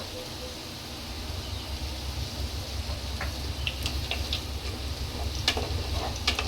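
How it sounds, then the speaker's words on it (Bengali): Diced potatoes fry in hot oil in a pan, making a steady, close sizzle throughout with occasional small pops and ticks rising above it. "এবার আলুটাকে লাল লাল করে ভেজে নেব।"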